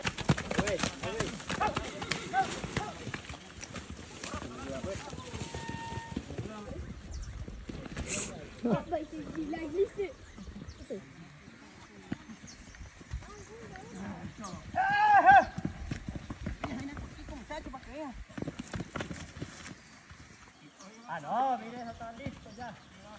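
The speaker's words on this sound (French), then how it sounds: "ils libèrent les chevaux et ils en ont attrapé un autre" Horses being freed during the recovery of a 4x4 truck buried to its chassis, hooves clopping and shuffling at a distance under frequent talk, with a brief louder burst midway.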